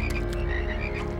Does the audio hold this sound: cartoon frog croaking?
yes